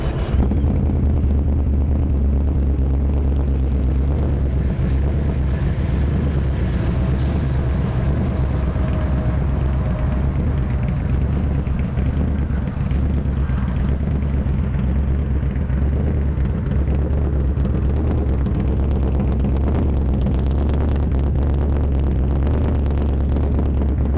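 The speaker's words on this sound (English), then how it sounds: "Hear the tone on that bike right" A Yamaha V Max VMX17 motorcycle engine drones loud and steady for the whole stretch, a constant low rumble with some wind noise over it.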